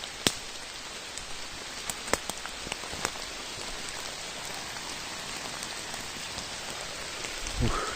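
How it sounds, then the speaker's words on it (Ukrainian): Steady rain hissing on a surface in the Carpathian mountains, with scattered louder drops tapping through it and a brief low rumble near the end. "Дощ сипет."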